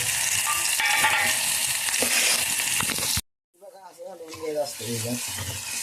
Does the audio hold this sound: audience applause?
no